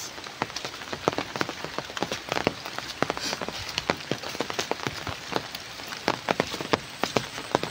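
Steady rain falling in Lopez, Quezon Province, Philippines, during flooding, with dense close drops pattering on a surface throughout and no voices.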